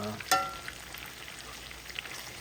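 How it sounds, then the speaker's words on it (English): Steak fries with melting butter in a cast iron skillet, a close, even sizzle following a sharp clink at the start, with no talk. "our butter is melting over our delicious steak"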